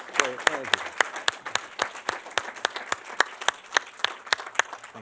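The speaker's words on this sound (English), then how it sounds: "Please give another round of applause for a great American hero" Audience applause for Rocky Bleier, Vietnam veteran and former Steelers player, during a visit to a VA facility. Many crisp individual claps form a steady, fairly loud ovation, with a brief voice at the very start.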